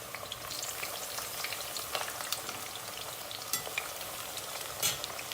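Eggplant pieces fry in a little oil in a pan, giving a steady, soft sizzle with occasional crackles and small pops, with no talking.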